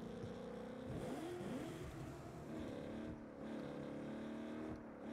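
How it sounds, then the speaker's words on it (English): Car engine in the Saints Row video game, revving up and down in repeated swells with a sustained droning note, steady and mid-level throughout with no talking. "I love the sound of this car."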